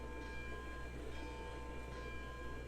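A steam locomotive's bell in the train game Railroads Online rings steadily and evenly throughout, moderately loud against a constant low rumble of the engine.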